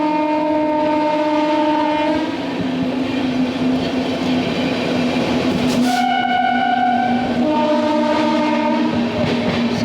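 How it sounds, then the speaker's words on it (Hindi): A passenger train runs slowly through Somna station on the main line of the Delhi–Patna route, its loud horn blaring in long sustained blasts over the rumble of the wheels, with a short break before the horn sounds again. "यहाँ पे धीमी रफ्तार में स्किप कर रहे हैं सोमना स्टेशन"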